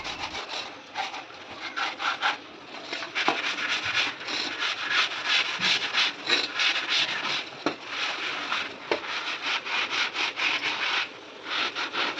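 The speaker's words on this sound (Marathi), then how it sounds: "त्यानंतर थोडा भांडी घासण्याचा साबण किंवा लिक्विड लावून खलबत्ता आतून बाहेरून चांगला घासून घेऊया" A stone mortar and pestle gets scrubbed with dish soap, giving a rhythmic, gritty rubbing and scouring at close range, strokes repeating steadily with brief pauses and no speech.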